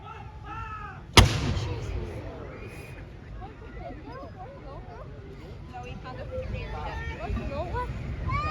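A single artillery gun fires one loud, sharp boom at an Armed Forces Day display at Jordanstown Loughshore Park, followed by a lingering rumble and distant crowd chatter with birds calling.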